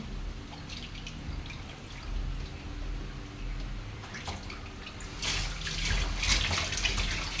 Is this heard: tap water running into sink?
yes